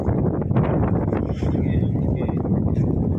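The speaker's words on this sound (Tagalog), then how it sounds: "Mahangin." Steady low rumbling wind buffeting the microphone outdoors by the sea near fishing boats, continuous throughout, with faint muffled sounds beneath.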